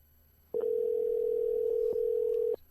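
A telephone call being placed to a weather information line, heard as a single steady, clean ringing tone that starts abruptly, holds for about two seconds at a constant level and then cuts off.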